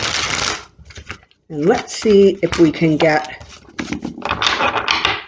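Playing cards are shuffled close to the microphone with quick riffling bursts at the start and end, while someone talks through the middle.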